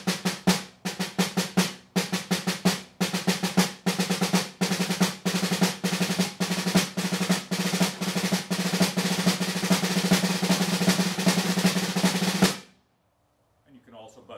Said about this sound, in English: A third way is to do it in a triplet feel.